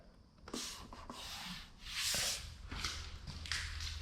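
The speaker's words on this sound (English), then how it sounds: "And then do a little hand rubbing here, smooth this out." Hand rubbing and sanding on car bodywork, a steady scratchy abrasive rasp in repeated strokes, close and moderately loud, with short swells as the block or hand passes over the panel.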